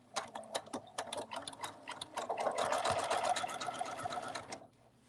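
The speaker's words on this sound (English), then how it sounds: "I want to get to a really big zigzag" A sewing machine stitching a wide zigzag on a cuddle bunny plush runs in a fast, rattling burst of clicks that speeds into a steady whir, then stops near the end, close and clear with no talking.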